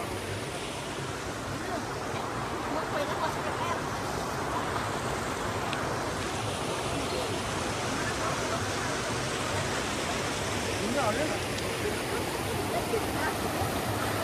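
River stream rushing in a steady broadband roar, constant and fairly loud, with faint voices mixed under the flowing water.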